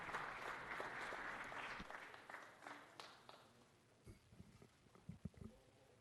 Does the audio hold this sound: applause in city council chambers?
yes